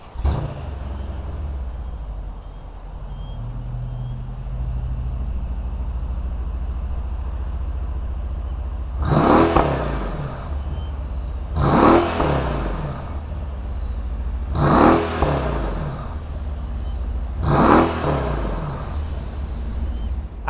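V8 engine of a 2019 Mercedes-Benz AMG SL63 Roadster idling with a low rumble, then four sharp revs spaced evenly, each surging loudly and falling back to idle.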